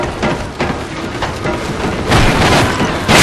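Video game gunfire in a noisy match: a run of loud, close booming shots and crashing bursts, one after another, with a heavy blast near the end and no talking.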